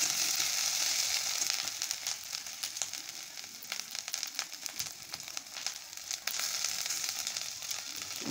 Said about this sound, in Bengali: তো এবার আমি পেঁয়াজ বাটাটা দিয়ে দেবো এর মধ্যে। পেঁয়াজটা একটু অল্প ভেজে নেব।